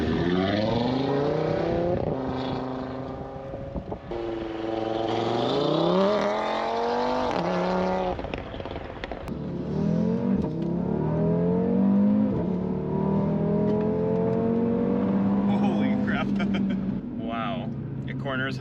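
A 600+ hp Audi RS3 revs hard while driving, its engine pitch climbing and falling through repeated pulls against a soft limiter, loud and close from inside the cabin, with people talking over it.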